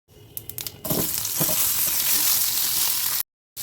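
Mustard seeds and spices for dry okra crackle in hot oil, opening with a few sharp pops. A loud, continuous sizzle then takes over, close up and with no voices, before a brief cut to silence.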